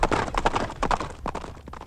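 Horse hooves clip-clopping in a Telugu comedy film scene, a quick run of rhythmic, fairly close hoof beats over a short stretch, with a faint low rumble beneath.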